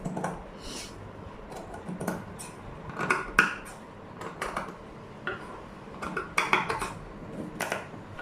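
Scissors cutting through pinned blouse fabric, a series of crisp snipping clicks and metallic chops in uneven bursts, close and fairly loud against a quiet room.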